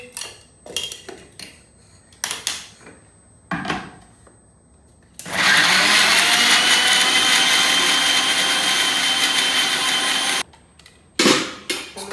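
A blender grinds garlic into paste in a kitchen, a loud steady whirring run of about five seconds between clattering knocks of utensils and containers.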